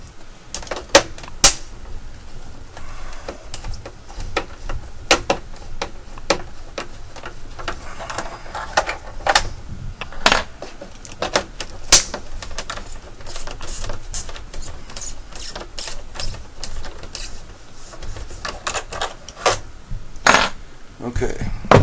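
Small metal screws being removed from an original Xbox console case, with repeated sharp clicks and light metallic taps, some scraping and handling noise, and occasional speech.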